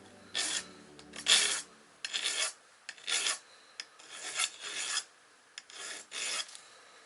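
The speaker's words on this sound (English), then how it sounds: "I'm just gonna flat file it down." A flat hand file rasps across the cut end of a steel rear brake line on a Jeep Cherokee XJ, close up and alone, in about ten separate rhythmic strokes.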